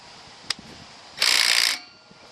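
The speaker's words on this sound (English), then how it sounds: "now I put the impact wrench on" An impact wrench spins a bolt on a Service Tec Raptor agricultural-style slip clutch in one loud half-second whir, after a single sharp click and over a steady background hum.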